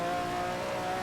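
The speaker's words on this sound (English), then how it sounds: "Let's see if we can get this engine roaring." Ferrari engine in a Goodwood Festival of Speed VR racing game on a wet track, a steady sustained engine drone with a strong tonal whine, loud and continuous with no talk.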